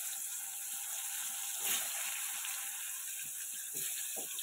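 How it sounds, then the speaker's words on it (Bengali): Pointed gourd (potol) frying in hot oil in a home kitchen: a steady, bright, hissing sizzle with small crackles and pops, close and continuous, with a few faint clinks underneath. "তো আগে পটলগুলো ভেজে নিই।"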